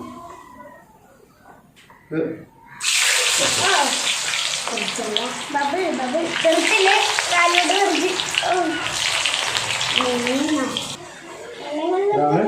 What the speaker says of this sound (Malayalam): എണ്ണ ചൂടായിട്ടുണ്ട് പൊട്ടാറ്റോ ഫിംഗർ ചിപ്സാണ്